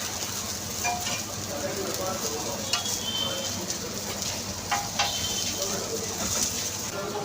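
Potatoes fry and get stirred in a pan, a steady sizzle with occasional scraping clinks; a voice may be faintly present in the background.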